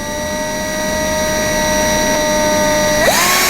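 A Chicago Pneumatic 3/8 stud cleaner, an air tool for cleaning rusty bolts, runs at a low 1500 rpm with a steady whirring whine and airy hiss, then the pitch sweeps upward sharply near the end as it speeds up.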